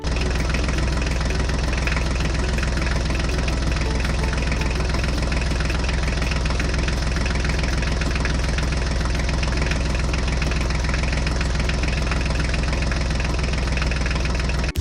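A Mahindra tractor engine running steadily, with a constant low rumble and a loud, even droning throughout, and no voices.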